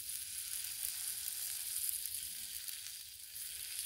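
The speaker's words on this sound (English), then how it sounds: "It's got a good sear going there." Tri tip steak sears on a hot griddle, a steady, close, even sizzle running the whole time without breaks or voices.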